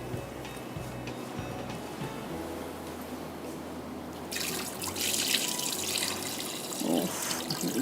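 Water poured off from a pot of rice while cooking mutton mandi, starting as soft drips and trickles, then swelling into a louder steady splashing pour for the last few seconds, close by with no talking.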